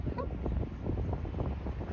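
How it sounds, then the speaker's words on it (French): Strong wind buffets a microphone outdoors at a small square around a statue in Pukaskwa National Park, a steady broadband roar with gusty low rumble filling the whole stretch. "Il y a beaucoup de vent."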